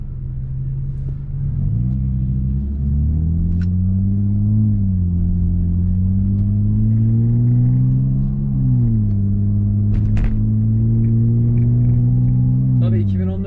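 Mercedes-Benz E350 from 2014 being driven, its engine and road rumble steady and close throughout, with smooth rising and falling pitch as it accelerates and shifts, plus a few faint clicks.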